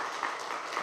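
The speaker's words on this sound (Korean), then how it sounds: "우리 큰 박수로 우리 아이들을 축복하겠습니다." A church congregation claps to bless the children standing during a Friday prayer service, a short dense patter of applause at moderate distance with no one talking over it.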